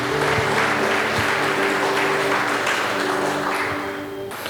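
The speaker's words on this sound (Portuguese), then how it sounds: "Vocês podem bater palmas ao Senhor." A church congregation claps together during a worship service, loud and continuous over sustained musical tones, easing off slightly at the very end.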